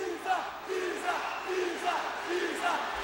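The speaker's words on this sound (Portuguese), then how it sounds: "a torcida aqui pedindo para ele pisar, né? Pisar no adversário" Crowd at a Meca Vale Tudo fight with José Aldo, shouting together in loud rhythmic surges that rise and fall as they urge a stomp on the grounded opponent.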